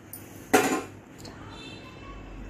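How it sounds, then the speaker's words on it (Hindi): Pieces of mutton dropped into a metal pressure cooker while cooking yakhni pulao, one sharp clattering knock with a brief metallic ring, then faint kitchen clinks and a quiet room. "तो कुकर में हम गोश्त डाल देंगे"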